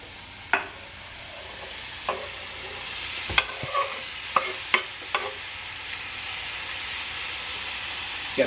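Beef pieces hit a hot pan on medium heat and sizzle with a steady frying hiss, broken by a few clinks and scrapes of a metal spoon stirring the meat.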